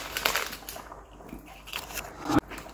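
Crisp, irregular crunching as Openshaw's lemon and scampi bites, a light battered snack, are chewed close up, with sharp bursts and brief pauses between bites.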